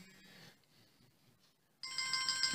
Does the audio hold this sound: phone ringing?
yes